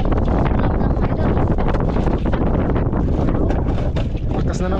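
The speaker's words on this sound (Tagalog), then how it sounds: "Lakas na ng hangin." Strong wind roars and buffets the microphone nonstop, loud and rough, with a faint sense of open water beneath it.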